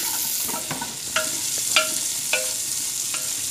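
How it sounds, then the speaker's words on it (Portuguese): Beef sizzles steadily in a pan for okra stew while a utensil scrapes and stirs it in a few distinct strokes, close and continuous with no talking. "Deixa ela fritando um pouco."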